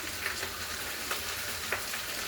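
Sliced potatoes frying in a pan of oil, a steady soft sizzle punctuated by a few brief scrapes and clinks of stirring.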